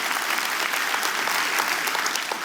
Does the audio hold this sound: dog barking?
no